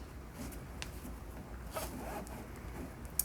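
A nylon strap is pulled through a cam buckle on a Thule Hullavator Pro 898 kayak carrier, giving a soft, zipper-like rasp with a few short scrapes and a sharp click at the end, close and quiet.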